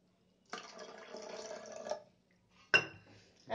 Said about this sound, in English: Now add a little bit of water again